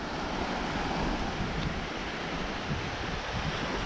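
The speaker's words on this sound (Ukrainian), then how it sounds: "Вітер просто сильний і хвилі, хвилі дуже великі." A steady, loud roar of strong wind mixed with large surging waves on the Sula River, continuous and unbroken, with buffeting gusts hitting close.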